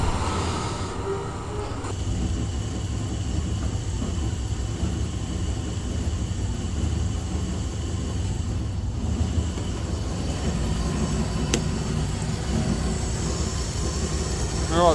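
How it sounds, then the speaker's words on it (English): A Holden HG car engine runs roughly and unevenly, a steady loud rumble held for the full stretch with slight shifts in tone and no pause. "Alright, that's running, but it does not sound happy."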